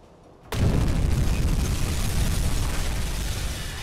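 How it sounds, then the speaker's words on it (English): In a U-boat video game, a torpedo strikes a ship with a sudden loud explosion after a near-silent moment. A deep, sustained roaring rumble follows and fades only slightly. "as long as this torpedo heads in the right direction. It'll hopefully blow."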